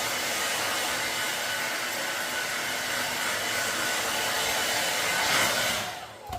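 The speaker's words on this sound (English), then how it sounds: "You mean to blow dry real quick?" A handheld hair dryer blows on short hair during a 27-piece short cut install, giving a steady, close whooshing roar that holds for several seconds before cutting off at the end.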